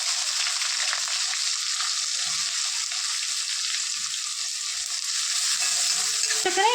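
Onions dropped into hot oil already crackling with mustard seeds and curry leaves give a loud, steady, close sizzle that holds throughout, with faint stirring scrapes near the end.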